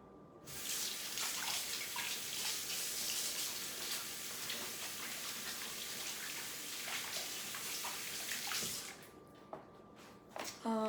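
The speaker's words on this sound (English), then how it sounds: "I'm gonna wash my hands." Hands washed under a running kitchen faucet during meal prep: a steady, soft hiss of water flowing into a sink for about nine seconds, then the stream is shut off, leaving a few drips and small clatters.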